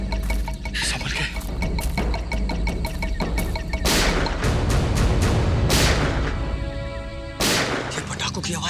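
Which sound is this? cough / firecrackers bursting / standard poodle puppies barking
firecrackers bursting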